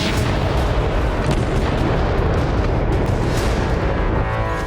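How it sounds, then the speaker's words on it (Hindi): Bombing by the Israeli air force on Hezbollah positions in southern Lebanon, a dense continuous roar of heavy explosions and rumbling blasts, loud and sustained with no pauses. "इजरायली वायुसेना के दक्षिणी लेबनान में हिजबुल्लाह के कई ठिकानों पर बमबारी की।"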